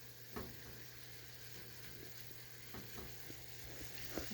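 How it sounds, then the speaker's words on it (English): Vegetables sautéing in a pan, a soft steady sizzle with faint occasional pops and stirring clicks, quiet and continuous with no talk. "it's sizzling right on. We want it to just sizzle."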